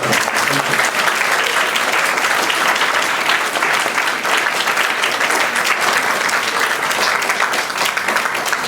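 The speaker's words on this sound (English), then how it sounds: "I have another round of applause" An audience at a gallery panel talk claps in a dense, steady round of applause that holds at full strength throughout, close and loud.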